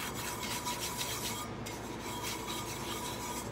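Steady dry rubbing of purple-green color-shifting glitter across a purple-painted travel mug, a close, continuous scratchy rasp with no talking.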